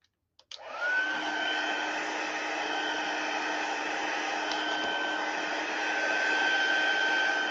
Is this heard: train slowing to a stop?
no